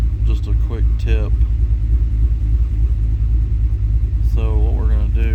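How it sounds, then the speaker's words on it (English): A truck engine idles at about 800 RPM with a steady, loud low rumble throughout, while someone talks over it. "you hear the truck idling now. It's at 800 RPM."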